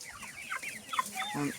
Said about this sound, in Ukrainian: тут у мене всього на все чотири курчатка